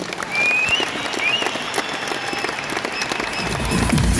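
An audience at an anniversary program bursts into sustained applause, many hands clapping in a dense, even roar that continues strongly to the end.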